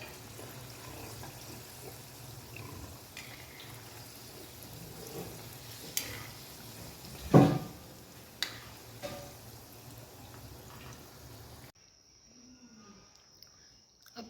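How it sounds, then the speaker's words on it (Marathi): Bhakarwadi snacks deep frying in oil over a low flame give a soft, steady sizzle with occasional pops and clinks, fading to near quiet at the end. "भाकरवड्या तळण्यासाठी टाकून घेऊया."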